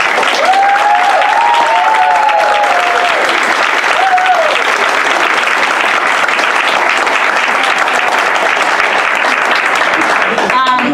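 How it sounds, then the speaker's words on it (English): A crowd at an animal shelter volunteer meeting gives a big, loud round of applause, with dense clapping that fills the room and stays constant, while a voice or two calls out briefly near the start. "I would really love it if you guys could give them a big round of applause"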